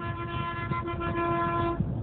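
A vehicle horn blares in one sustained, steady tone for nearly two seconds over a rumbling background of traffic.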